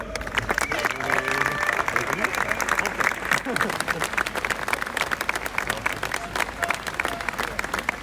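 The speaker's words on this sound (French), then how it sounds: "Je vous demande d'accueillir une salle d'applaudissements" An audience at an outdoor gathering outside the National Assembly breaks into applause to welcome a soprano singer, a dense burst of clapping and crowd noise with a voice speaking over it.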